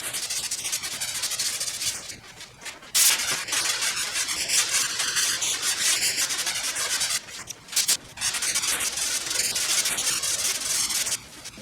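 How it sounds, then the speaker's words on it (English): Bondo body filler on a car panel is sanded by hand with 80 grit sandpaper in a home garage. Steady, gritty rubbing strokes continue close up for about eleven seconds, with a few brief pauses and no talking. "we're going to sand this down with 80 grit sandpaper"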